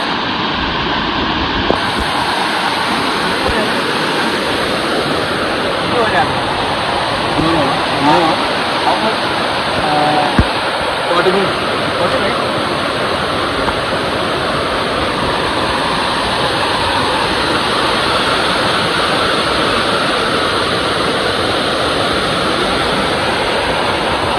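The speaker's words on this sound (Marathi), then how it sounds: "का पूर्ण वाहताना दगडांमधून पाणी वाहत आहे" Water rushes and splashes over rocks along a waterfall trekking route to Visapur Fort in a loud, continuous roar, with wind buffeting the microphone and brief voices underneath.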